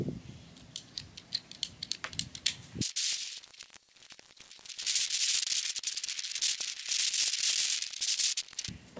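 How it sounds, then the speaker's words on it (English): PEX pipe being cut into lengths of about four feet for homemade pond fish attractors, heard as repeated close, crisp snipping and rubbing sounds, then a longer stretch of steady scraping cutting noise. "The next step is to cut your PEX or pipe, whatever you got."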